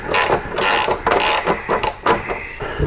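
A ratchet wrench clicks in quick bursts while a bolt is turned into a slot on a motorcycle fender, the loud, close metallic ratcheting coming in several short runs with brief pauses between them.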